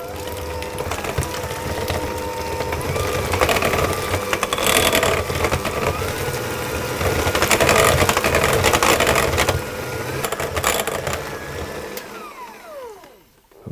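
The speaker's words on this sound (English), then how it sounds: "I'm going to whisk those together and get those fully incorporated." An electric mixer whisking egg and vanilla extract together for Danish butter cookie dough, a loud continuous whirring drone with shifting pitch that winds down and stops near the end.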